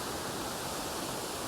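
Stream water near Columbine Falls in Rocky Mountain National Park rushes steadily and loudly as a dense, even wash with no pauses, and no voices are heard.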